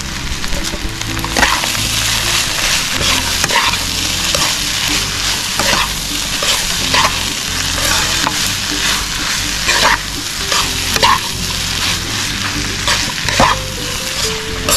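Crispy Kapampangan sisig sizzles loudly on a hot pan while being stirred with mayonnaise, pepper and seasoning, a steady frying hiss with frequent scraping clinks throughout, and no talking.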